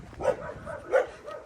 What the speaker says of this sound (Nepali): तर चाहिँ कुकुर भोगिरहेछ